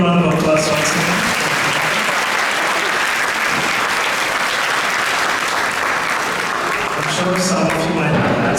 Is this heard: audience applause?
yes